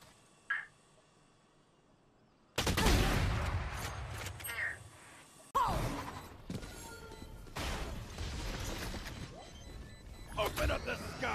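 Gunfire in the video game Valorant comes as sharp loud bursts and impacts amid busy game noise, with voices talking over parts of the action.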